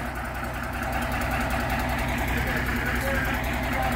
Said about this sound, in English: little Plymouth locomotive here they're pushing it with